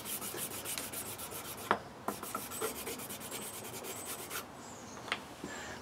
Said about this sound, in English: just literally rub that onto your strop